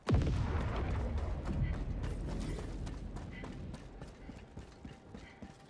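A dense barrage of booms and blasts from Helldivers 2, loud at first and then steady, with sharp cracks scattered throughout and no voices.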